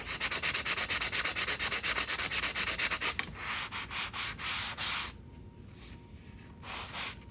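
Dry rasping strokes of a sanding block worked by hand over a chalk-decorated surface, a fast steady run of short even passes, then slower, more spaced strokes with brief pauses between them, close and alone.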